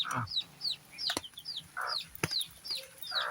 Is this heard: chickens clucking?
yes